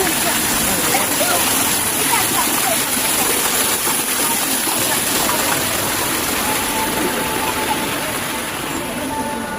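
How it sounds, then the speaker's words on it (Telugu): Waterfall at Swarnagiri temple, a steady broadband rush of falling water that stays loud and constant throughout, with faint voices mixed into the background. "ఇక్కడ వాటర్ ఫాల్."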